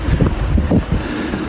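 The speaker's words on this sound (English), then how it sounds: "I don't know if you can hear me because it's really, really windy" Strong storm wind at a California cell tower, loud, low rumbling gusts pounding the microphone in uneven bursts with no other sounds standing out.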